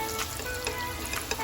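Shrimp frying in hot oil, a dense, steady sizzle and crackle heard up close, with no voices.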